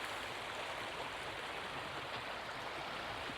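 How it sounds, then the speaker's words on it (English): Steady rushing of water flowing over rocks, a continuous broadband wash with no pauses, close and even in level. "Just listen to that water. Watch the water move around the rocks, the plants."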